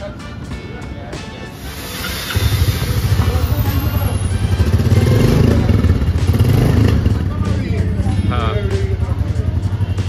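A 2023 Royal Enfield Bullet motorcycle engine starts up and settles into a loud, steady idle with revving pulses, close by, with people talking over it.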